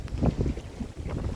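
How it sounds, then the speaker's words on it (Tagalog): Strong wind buffets the microphone in low, gusting rumbles, with faint splashing of water underneath. "Malakas po ang hangin."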